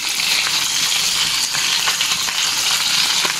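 Loud, continuous sizzling and crackling of fish frying in hot oil, close up and steady throughout with no talking.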